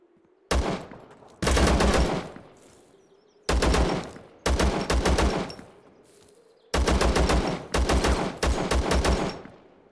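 Gunfire from a weapon in the video game Zero Sievert, loud, close bursts of rapid automatic shots separated by short pauses, with some single short volleys in between.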